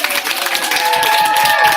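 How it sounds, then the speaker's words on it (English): An expo audience of a couple hundred people applauds, a dense, loud wash of clapping from a crowd filling the room, with some voices mixed in. "double the applause if you can"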